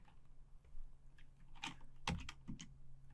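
Quiet, scattered keystrokes tap on a computer keyboard while a terminal command is entered, a handful of soft clicks in an otherwise hushed room.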